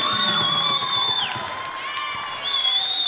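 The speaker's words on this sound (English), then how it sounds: "Alex Martin brings the crowd alive." Crowd roars and cheers after a slam dunk at an NWAC college basketball game between Clark and Whatcom, a loud sustained wash of voices and whoops with the commentator talking over it.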